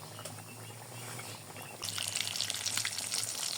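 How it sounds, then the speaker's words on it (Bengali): Egg cutlets frying in oil over medium heat, a quiet crackle that swells to a loud, dense sizzle partway through, close to the pan, with no talking. "মাঝারি আঁচে ভেজে নিতে হবে।"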